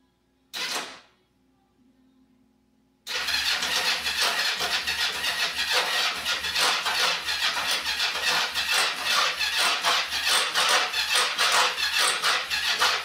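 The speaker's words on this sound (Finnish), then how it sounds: "kokeillaan, että lähtisikö se vaikka käyntiin" A Kawasaki GPZ500 motorcycle engine turns over with a brief crank, a short pause, then catches at about three seconds and settles into a loud, steady, slightly lumpy idle that runs without a break.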